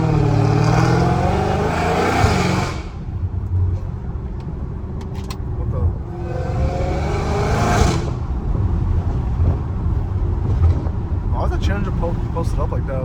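A Dodge Hellcat Redeye's supercharger whines loudly over its revving engine in two strong bursts, one at the start and another a few seconds later, with a quieter idling rumble between them.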